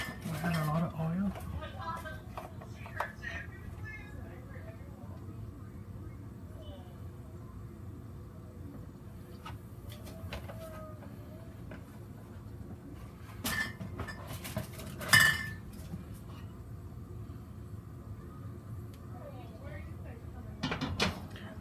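Someone handles and sets down a dry pot in a home kitchen while cooking fried green beans, making scattered metallic clanks and clinks, with one louder knock midway and another near the end. A low, steady background hum runs throughout, and speech can be heard.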